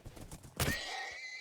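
A horse in Minecraft gives a single loud whinny after a few soft hoof thuds, the call rising sharply then drawing out into a wavering tail.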